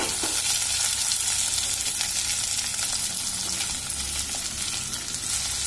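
Onions, capsicum and mixed vegetables frying in a pan for breakfast poha, a steady dense sizzle with occasional stirring scrapes, close and continuous with no talking.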